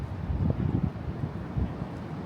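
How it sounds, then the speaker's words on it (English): Gusty wind buffets the microphone with low, uneven rumbling bursts, loud and close. "I know it's hard, it's windy."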